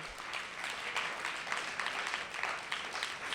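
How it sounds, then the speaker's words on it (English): Steady applause from an audience, dense overlapping claps sustained throughout at moderate distance, with no voices standing out. "Thank you guys for clapping."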